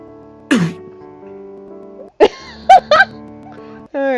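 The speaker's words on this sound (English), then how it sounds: "He just coughs in response." A male character in the otome game Collar X Malice gives a few short, clipped coughs in separate bursts against a quiet game background.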